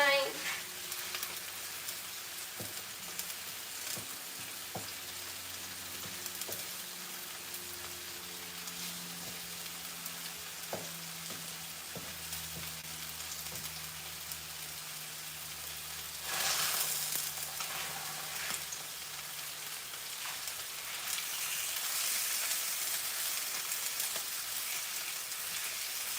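Salmon fries in a hot pan with a steady close sizzle and crackle, occasional stirring or scraping noises, and the hiss swells louder partway through, with no talking.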